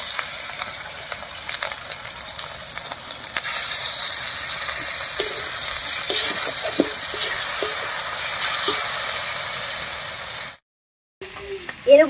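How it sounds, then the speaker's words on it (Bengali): Chili paste and cumin-coriander paste sizzle in a frying pan with ginger-garlic paste for a soybean curry, a steady close hiss and crackle with light stirring, then a brief silence before a few more stirring sounds. "এবার এর মধ্যে দেব লঙ্কা বাটা আর জিরা ধনিয়া বাটা।"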